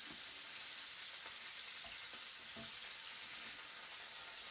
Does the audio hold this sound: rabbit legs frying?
yes